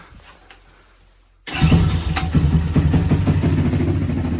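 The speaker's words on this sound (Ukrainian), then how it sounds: "Прогріли ми мотоцикла, заводиться вже так, як треба" Near silence with a faint click, then a warmed-up Geon GNS 300 motorcycle engine bursts into life and settles into a steady, throbbing idle close by, in winter.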